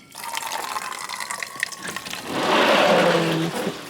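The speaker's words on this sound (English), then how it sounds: "I'm just gonna give this some water, it's a bit dry." Water pours from a watering can onto dry plants inside a greenhouse; after a stretch of quieter rustling, a steady, fairly close gush runs for about a second before fading.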